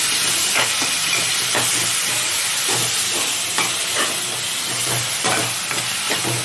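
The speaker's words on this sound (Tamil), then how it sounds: "இந்த மாதிரி நல்லா வதக்கிக்கோங்க" Ingredients for mango fish kulambu sauté in a pan over low heat, giving a constant loud sizzle and hiss broken by regular scrapes of a spatula stirring, with no voices.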